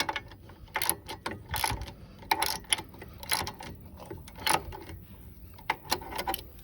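Ratchet wrench with a socket turning a bolt on an off-road vehicle's brake caliper, giving quiet, irregular bursts of clicking pawl ticks in short strokes, close up with no talking.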